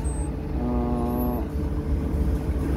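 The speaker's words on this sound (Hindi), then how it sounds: "लेफ्ट साइड पे ये हॉर्न है" The horn of an XCMG 50-ton mobile crane gives one steady, loud tone lasting under a second, sounding over a continuous engine rumble with no one talking.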